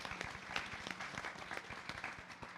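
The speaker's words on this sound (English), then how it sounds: "Give them all a wonderful round of applause, please." An audience applauds newcomers at a gathering with a pundit, the clapping dense and steady throughout, with sharp individual claps standing out from the crowd.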